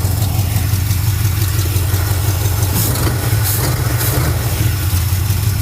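A car engine idles steadily after a cold start on a chilly day, a close, continuous low rumble with an even, slightly lumpy pulse and no voices over it.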